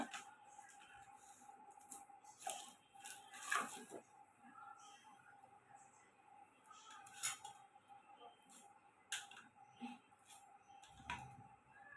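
A knife peels and slices sponge gourd (dhundul) in a home kitchen: quiet, intermittent scrapes and sharp little clicks of the blade, with faint background noise between strokes.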